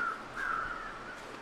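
Crows caw in the wilderness of the survival video game The Long Dark, giving a short drawn-out call over a faint ambient background with no talking.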